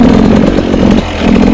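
A motorcycle engine drones loud and close during a ride, the note holding steady before briefly dropping and picking back up as a gear changes. No voices.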